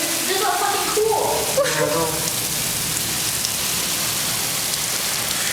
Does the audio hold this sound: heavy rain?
yes